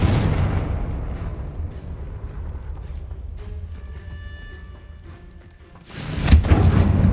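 A fiery explosion spell is cast in the Hogwarts Legacy game, with a deep rumbling blast that fades into a tonal magical ringing before a second heavy boom bursts in near the end.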